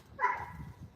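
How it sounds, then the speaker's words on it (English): A dog gives a single short bark at moderate distance, indoors over a low background hum. "that dog is loud"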